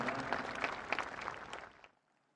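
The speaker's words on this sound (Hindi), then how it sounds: "एक बार पुनः तालियों के उद्घोष के साथ इन पलों का अभिवादन करें।" Applause from an audience at a prime minister's commemorative coin ceremony, a steady burst of clapping that fades out at the end.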